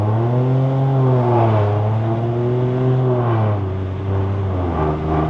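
A tuned Proton S70 with 178 whp and 270 Nm surges hard in first gear on a mountain road, its engine note rising and dipping in a loud, steady, close-up drone with no talking.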